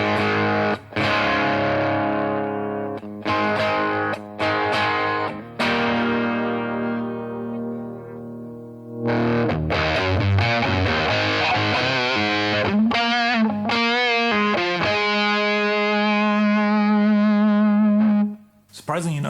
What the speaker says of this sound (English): Down to maybe 6, and we've got more of a kind of just overdrive sound.